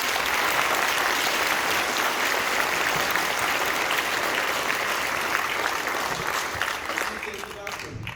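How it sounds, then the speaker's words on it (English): Sustained audience applause fills a high school end-of-year concert hall, dense clapping from a large crowd holding steady before easing off near the end, with some voices mixed in. "Let's give them another round of applause."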